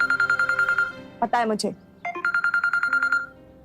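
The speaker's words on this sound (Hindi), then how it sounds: "फोन आ रहा तुम्हारा।" A phone rings for an incoming call with a steady repeating electronic ringtone, loud and close. Two people exchange a few words in the middle as the ringing briefly stops, then the tone resumes.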